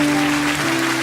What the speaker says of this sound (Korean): 우리 좀 박수로 좀 격려했으면 좋겠습니다